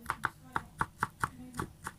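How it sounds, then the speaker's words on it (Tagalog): A knife chopping garlic cloves on a board, about ten crisp, evenly spaced cuts close to the microphone, with quiet room sound between strokes. "And a few cloves of garlic po. And I'm going to chop it."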